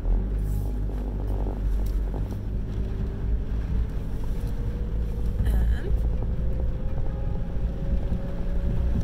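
A car drives along in the Taranaki region of New Zealand, with a steady low cabin rumble and road noise under buffeting wind, while someone talks faintly.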